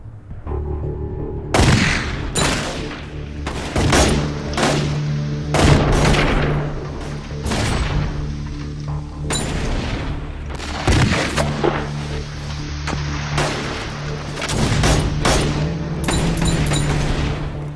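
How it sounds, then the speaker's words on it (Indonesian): A gunfire exchange crackles as a dense, loud run of shots and bursts, rapid volleys overlapping with booming reports for the whole stretch. "dan saat itu juga terjadilah baku tembak"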